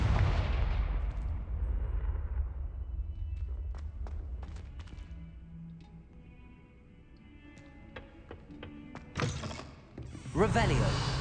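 Explosive Confringo and Bombarda spells cast in Hogwarts Legacy, a heavy rumbling blast fading at the start, then scattered sharp cracks and bursts, with a louder pair of impacts near the end under intermittent spoken lines.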